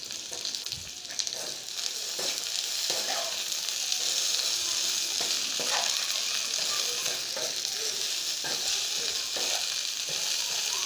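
Okra (bhindi) fries with ginger garlic paste in a pan, hotel-style, giving a loud continuous sizzle punctuated by repeated stirring scrapes and taps, with no one talking.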